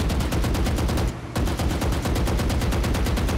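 Phantom assault rifle in a video game fires while aimed down sights in fast steady full-auto bursts, loud and close, with one brief pause before the stream of shots resumes.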